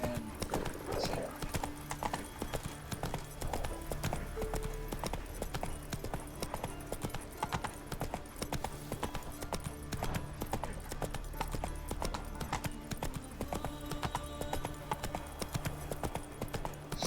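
Hoofbeats of Geralt's horse Roach in The Witcher 3, a continuous steady clip-clop trotting over a bed of music, with a brief whinny early on.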